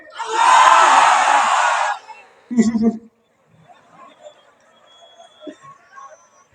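At an Islamic sermon gathering, the audience answers a takbir call with one loud, massed shout lasting under two seconds. A short second burst of voices follows, then only faint, scattered sounds.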